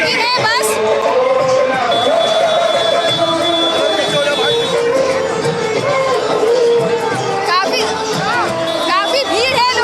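A large crowd gathers at a political road show in Delhi for Sunita Kejriwal, with a dense, steady roar of chatter and shouting voices close by, rising into scattered cheers and slogan chanting throughout.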